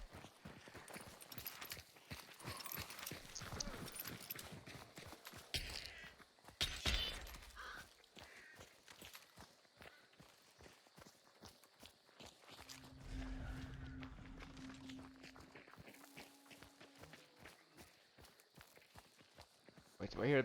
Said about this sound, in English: Wait, do I hear the boss? Stomping of some kind?